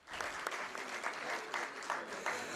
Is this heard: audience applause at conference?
yes